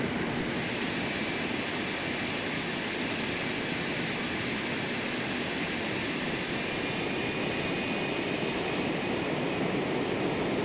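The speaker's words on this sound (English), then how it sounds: "People are here to hear the plane anyways." The jet engines of an Embraer Phenom 300E in Microsoft Flight Simulator 2024 give off a steady, loud, broadband whooshing roar with a faint high whine, unbroken for about ten seconds.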